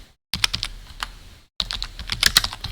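Computer keyboard typing a Python print command on a Windows PC, two quick bursts of close, crisp key clicks separated by a short silence, with no voice.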